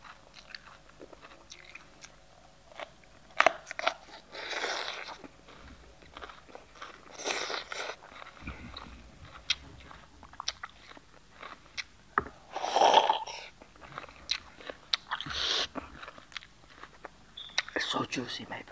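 Raw bell pepper bitten and chewed close to the mic in a quiet room, crisp wet crunches arriving in repeated bursts with pauses between bites.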